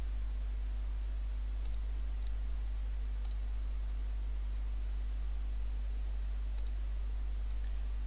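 Three faint, sharp computer mouse clicks spaced a second or more apart, heard against a constant low electrical hum and background hiss while working in Blue Sky Plan software.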